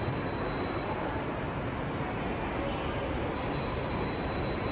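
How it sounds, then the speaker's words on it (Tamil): A train moves through a metro station, a loud, steady broadband rumble and rush that runs without a break from start to end, with no voices heard. "எங்களை பாருங்கள் மெட்ரோ ஸ்டேஷனை."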